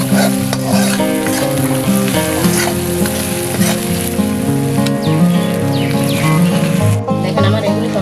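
Onions with turmeric and chili powder stir-frying in a pan for a Bengali green jackfruit curry, loud continuous sizzling with scraping and stirring strokes, sometimes under background music.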